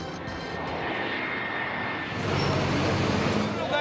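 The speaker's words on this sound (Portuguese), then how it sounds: "Tem dias aqui que passa a cada minuto e meio um avião." A fixed-wing airplane passes low over a residential area of São Paulo, a loud, steady engine roar that swells toward the end, with distant traffic underneath.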